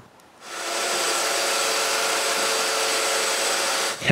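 A power drill bores mortises into cedar for a patio table, a steady, loud whirring drone that starts abruptly after a short quiet lead-in and holds constant for over three seconds before a brief dip at the end.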